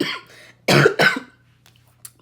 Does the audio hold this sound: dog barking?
no